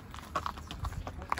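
Hooves of a horse clip-clopping at a slow walk on a path near grass in Nuwara Eliya, Sri Lanka, a few irregular knocks at close range over quiet outdoor background.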